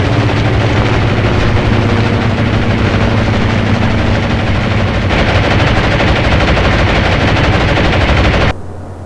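Continuous rapid anti-aircraft gunfire in the naval strategy game Atlantic Fleet, a loud dense rattle with droning engine noise beneath, cutting off sharply near the end.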